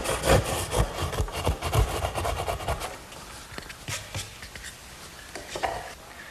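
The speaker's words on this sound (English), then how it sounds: "Now my 10-point crosscut saw does a good job finishing up the corners." A 10-point crosscut hand saw cuts wood at the corners of a stool, making rapid rasping strokes that are loud for about three seconds before fading into a few quieter, scattered scrapes.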